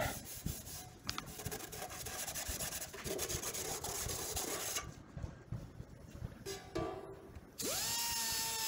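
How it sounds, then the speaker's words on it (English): Hand deburring tool and red Scotch-Brite pad worked along the sharp cut edges of a see-through motorcycle fuel tank, a steady close rubbing and scraping with brief breaks, ending in a rising whine. "I'm going to use a deburring tool to take care of any sharp edges."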